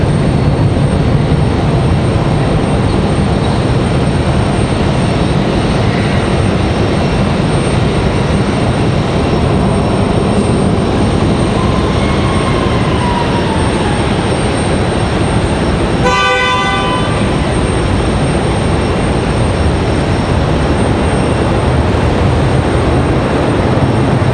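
Loud, steady roar of a United Boeing 737-900 airliner at stormy Raleigh-Durham airport, continuous broadband rumble throughout with a brief sharp tonal horn-like burst near the end.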